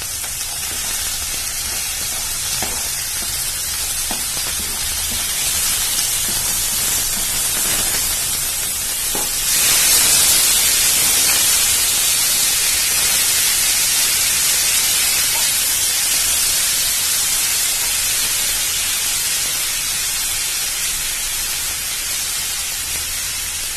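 Vegetables sizzle in a hot pan with a steady, dense hiss that holds for the whole stretch and swells a little midway, close and loud with no talking.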